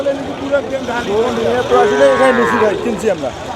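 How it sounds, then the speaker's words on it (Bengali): A Sahiwal calf at Nilphamari cattle market gives a loud, close, drawn-out moo, with people talking and market bustle around it. "এটা কি জাতের বাছুর এটা ফ্রিজিয়ান না সাইওয়াল দাদা সাইওয়াল ব্রামার সাইওয়াল"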